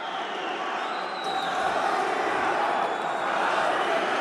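Arena crowd at a Greco-Roman wrestling world championship bout in Tashkent, with a steady, loud roar of many voices that swells partway through, with scattered cheers rising from the continuous din.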